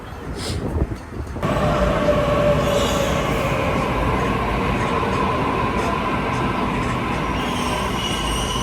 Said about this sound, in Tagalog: Two levels yung train nila.